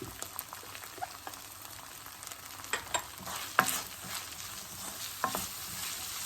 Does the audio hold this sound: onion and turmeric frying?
yes